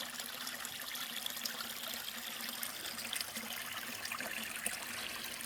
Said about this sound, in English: Just another little river. Stream, I guess is what this one would be called.